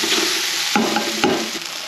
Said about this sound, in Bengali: চালতাগুলোকে ভালো করে ভেজে নিতে হবে।